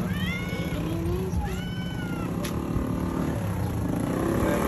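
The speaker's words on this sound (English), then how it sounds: "Cat say meow." A cat meows repeatedly while begging for ice cream on Tokashiki Island, several rising and falling cries close by over a loud constant engine-like drone.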